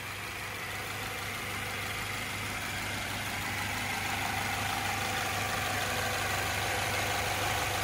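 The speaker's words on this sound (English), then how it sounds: "So nice and smooth running engine, but we'll take a closer look right now in the engine bay." A 2014 Subaru Outback engine idles steadily in its engine bay, heard up close as an even, continuous hum with a low drone and no variation across the whole stretch.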